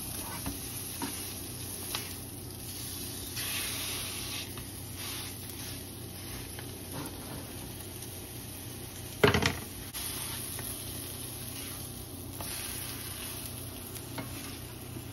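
Flattened pork pieces frying in a pan give a steady, faint crackling sizzle throughout, with one brief louder clatter partway and no talk.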